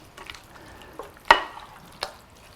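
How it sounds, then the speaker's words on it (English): A spoon stirs a simmering tomato sauce with oregano and black pepper in a pan, giving soft scraping strokes and a few sharper clinks against a faint, steady sizzle. "Now we're gonna continue stirring. And the sauce is almost ready."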